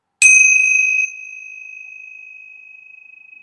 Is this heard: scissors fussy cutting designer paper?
no